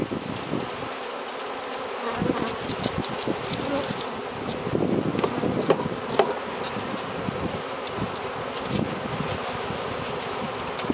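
Italian honeybees from a freshly installed package swarm in a dense, continuous buzzing cloud, close and loud throughout with many overlapping wingbeats and no speech.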